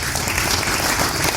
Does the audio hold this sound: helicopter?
no